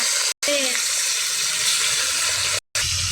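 Pieces of rohu fish frying together in hot oil in a wok, a loud, continuous bright sizzle that cuts out briefly twice, with a voice talking faintly underneath.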